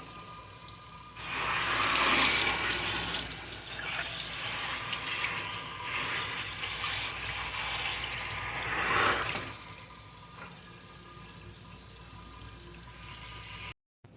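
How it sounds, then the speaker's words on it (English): Turnip green leaves are rinsed front and back under a running kitchen tap, the water splashing steadily into a sink. The stream keeps going almost the whole time, louder gushes coming and going as the leaves move under it, then it stops abruptly at the end. "I do rinse front and back of the leaves."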